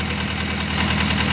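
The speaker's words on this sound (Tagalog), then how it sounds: "Engine pala nito mga kagrasa, Jots." A German-made oil-cooled engine, with no radiator, idles at a steady, even rumble throughout, close by and fairly loud, with a faint knocking texture and no voices.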